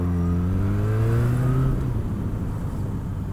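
A motorcycle accelerates hard to overtake, its engine note climbing steadily in pitch before settling into a loud, close roar with wind noise and no talk.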